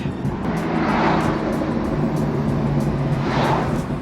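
A BMW M2 Competition's engine drones steadily while the car is driven, a loud, constant low rumble heard from inside the cabin, with faint, evenly spaced ticks layered over it.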